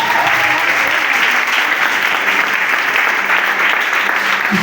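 A church congregation claps for a visiting preacher during a deliverance service, loud sustained applause from many hands filling the space evenly throughout.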